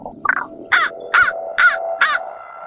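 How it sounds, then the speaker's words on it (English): A raven caws five times in a row, loud and close, each harsh call evenly spaced with nothing else heard. "found a raven sitting on the edge of a leafless branch"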